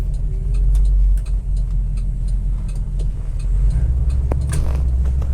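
A Ford Maverick Grabber's V8 rumbles steadily as the car drives, a deep, continuous low engine drone holding throughout with a slight surge near the end.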